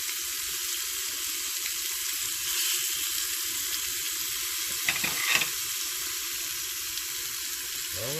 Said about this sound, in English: Nothing like smoked bacon while it's cooking.